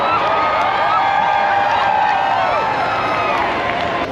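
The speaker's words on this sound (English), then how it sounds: "It's so much fun to hear everybody cheering when the balloons leave the ground" A large outdoor crowd cheers and calls out as hot air balloons lift off at a balloon fiesta, a steady loud wash of voices with whistles and rising shouts throughout.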